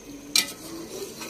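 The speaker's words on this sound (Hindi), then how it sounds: "एक दफा चमचा हिलाओ" A spoon scraping and stirring through a pot of chicken biryani, with one brief louder clatter of metal followed by a soft, steady low sizzle underneath.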